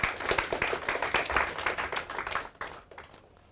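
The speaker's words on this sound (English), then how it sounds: "Please clap for him." Students in a classroom clap for a classmate after his presentation, a fairly quiet, lively patter of hands that thins out and dies away over a few seconds.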